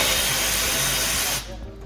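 A power tool whirs loudly for over a second while removing fasteners underneath a car bumper, then cuts off and leaves quieter residual noise.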